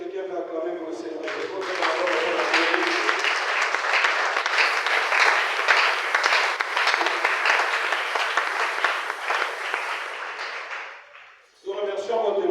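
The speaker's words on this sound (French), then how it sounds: "Est-ce que quelqu'un peut acclamer pour le Seigneur?" A church congregation breaks into loud, sustained applause and cheering for the Lord, dense clapping that builds after a brief voice and holds steady for about ten seconds before cutting off abruptly.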